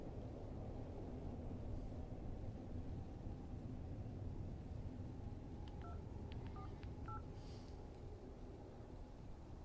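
A quick run of telephone touch-tone dialing beeps, short clipped tones in an uneven sequence, set against a loud steady low rumble and fairly faint beneath it.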